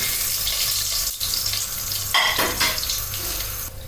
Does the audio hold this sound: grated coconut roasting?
yes